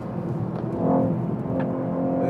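A BMW M5 or Mercedes-AMG E 63 S sedan engine pulls hard on a race track, a steady low drone that swells and rises slightly as the car accelerates, loud and continuous.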